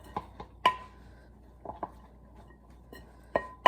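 Cauliflower mixture and salt stirred together in a bowl with a wooden spoon, heard as a few sharp clinks and scrapes against the bowl spaced out over a quiet background, close and moderately loud.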